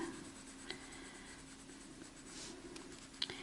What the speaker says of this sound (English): I'm laying my pencil down and getting more of a broad stroke